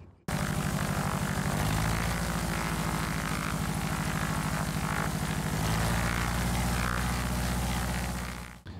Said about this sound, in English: I think what we have here is a working engine